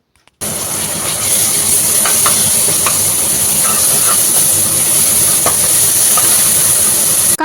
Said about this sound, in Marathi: कांदा टमाटा हलद मसाला सगळा मस्तपैकी परतून झाला